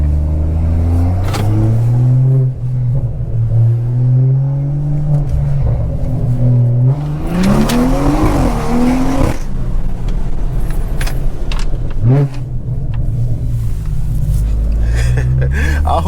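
A tuned BMW 340i engine revs and accelerates in repeated pulls, its pitch climbing and dropping, loud and heard from inside the car, with a person talking over it at times.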